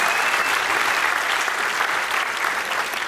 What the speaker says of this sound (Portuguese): Salve de palmas pro Diogo, senhoras.